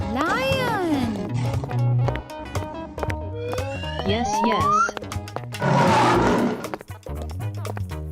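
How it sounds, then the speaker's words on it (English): A cartoon-style lion lets out a loud, rough roar amid playful animated sound effects and music, and a voice speaks briefly nearby. "Lion."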